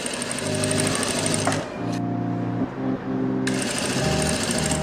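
A sewing machine stitches salwar fabric with a loud, close whirring hum and a fast needle rattle, pausing briefly midway before running on steadily.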